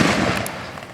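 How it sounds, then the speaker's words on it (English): Rapid, dense crackle of gunfire at a Civil War battle reenactment, a continuous loud barrage of overlapping reports filling the whole second with no break. "And then the crowd hears the gunfire."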